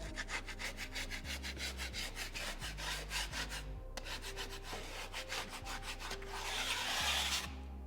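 A knife scrapes along a drywall tape bead around a window, making repeated close, rasping strokes in a steady back-and-forth rhythm, with a brief pause midway and a harsher, louder scrape at the end.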